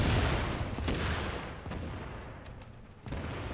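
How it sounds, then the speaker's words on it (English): Gunfire erupts in the shooter game The Division, a loud burst of rapid shots and booming blasts up front that thins out and then kicks back in at the end. "This guy's fucking shooting me."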